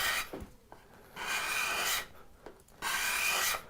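Card scraper drawing across oak, producing clean shavings: two long, loud raspy strokes with a shorter scrape between, each a dry bright hiss close up, no talking.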